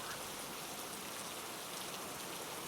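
Steady rain falls evenly and continuously as a soft, wide hiss, with no talking and no change in intensity throughout.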